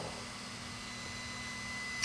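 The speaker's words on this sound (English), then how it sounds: "that's the little fan on the back side of that Cyclops LED headlight bulb" A faint, steady whir of the small cooling fan on a Cyclops LED headlight bulb on a Suzuki DRZ400SM motorcycle hums quietly and continuously, with a low electrical drone beneath it.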